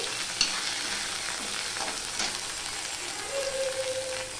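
Onion and ginger stir-fry in a pan, a steady close sizzle and crackle with light scraping of the stirring spoon throughout, no talking heard.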